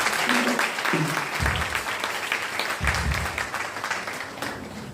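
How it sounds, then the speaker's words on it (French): A church congregation applauding during a Sunday worship service, steady clapping with low voices and murmuring underneath. "Nous applaudissons le Seigneur."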